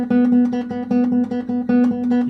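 Guitar arpeggio picked steadily on a single open string, an even, rapid stream of repeated plucked notes ringing loud and close with no talking.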